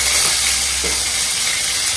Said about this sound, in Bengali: শিম ভাজাটা বসাচ্ছি দিলাম একটুখানি পাঁচ ফোড়ন আর আদা রসুন পেঁয়াজ জিরে বাটা